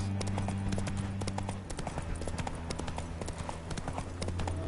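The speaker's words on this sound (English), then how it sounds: "Bloody fine mount. Good stance, powerful rump, stable withers." Horse hooves clip-clop at a steady rhythm in The Witcher 3, a clear close-up stream of hoofbeats with low droning music underneath and no speech.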